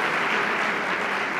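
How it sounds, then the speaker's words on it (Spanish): Steady audience applause at a Python conference keynote, dense clapping from a large crowd that holds loud for the whole short stretch. "Podemos dar un aplauso al Spectrum."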